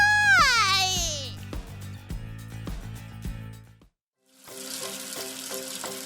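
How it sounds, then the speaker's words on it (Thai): A hot frying pan is plunged into cold water, giving a sudden broad hissing sizzle after a brief silence. Before it come a high wailing, voice-like cry and scattered clicks and knocks. "แล้วพอใช้งานเสร็จ ก็โยนกระทะลงในน้ำเย็น"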